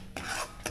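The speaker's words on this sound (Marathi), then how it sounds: "आता याच्यात आपल्याला अर्धी वाटी साखर टाकायची आणि ही साखर आपण छान मिक्स करायची" Spoon scraping and stirring sugar into a thickened papaya mixture in a pan, two short rasping strokes, close and quiet.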